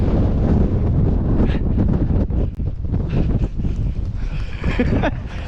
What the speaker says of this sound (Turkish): Dışarı çıkamıyoruz abi bu ne biçim bir rüzgar.